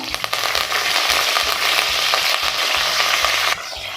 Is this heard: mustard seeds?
yes